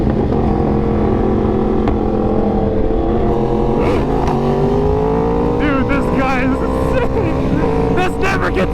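Loud motorcycle engine revving hard and steadily as the rider pulls a wheelie on an open road, rising and falling pitch sweeps over a constant roar, with excited voices shouting over it.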